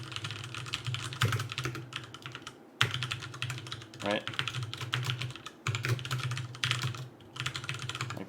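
Steady computer keyboard typing runs close to the microphone in quick bursts of clacking keys, with brief pauses, and a voice speaks briefly over it.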